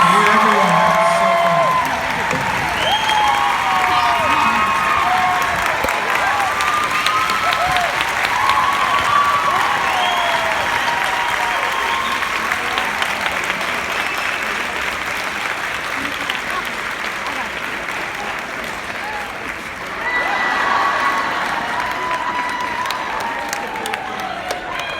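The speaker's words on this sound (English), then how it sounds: "how about a big round of applause for our amazing cast?" Loud, sustained audience applause for a theater cast fills the whole stretch, dense clapping mixed with cheers and whoops, dipping slightly near the end before swelling again.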